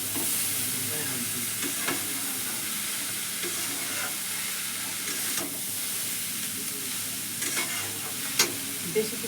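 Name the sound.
cabbage stir-frying in pan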